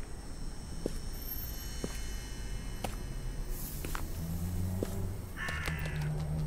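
Crow caws in the horror game Stigmatized Property ring out one at a time at uneven intervals over a quiet outdoor backdrop with faint steps, each call short and fairly clear.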